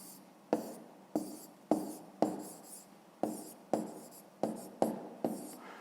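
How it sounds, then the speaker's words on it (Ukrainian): Pen writing out an answer to a fifth-grade math exercise on paper, a steady series of about ten quick scratchy strokes, each starting with a tap and trailing off, close and quiet. "Записуємо тоді відповідь."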